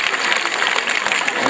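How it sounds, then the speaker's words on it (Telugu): At a school anniversary day, an audience claps loudly in a brief, dense burst of continuous applause. "అందరూ ఒకసారి గట్టిగా చప్పట్లు కొట్టాలి"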